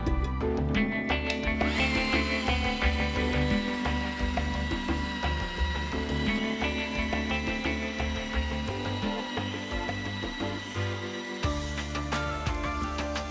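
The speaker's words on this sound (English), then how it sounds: "Simply apply Liqui polish, in this case the product Granite Black, and polish the edge manually with an angle grinder." An angle grinder polishing a granite edge with a liquid stone polish, a steady whirring drone that runs nearly unbroken at an even level with slight wavering in pitch.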